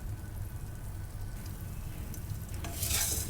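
Coriander seeds, cumin, pepper and dried red chillies roasting lightly in a little oil in a pan, with a soft, steady sizzle and scraping stirring, plus a brief brighter rattle near the end.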